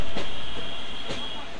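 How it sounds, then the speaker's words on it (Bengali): A crowded passenger train departing Howrah station, bound for Puri, rumbles steadily with broadband rail noise and two brief rattling clacks, heard close with no talk. "ফাইনালি কিন্তু আমাদের ট্রেন ছেড়ে দিল হাওড়ার থেকে"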